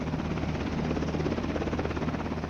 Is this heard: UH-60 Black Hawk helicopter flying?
yes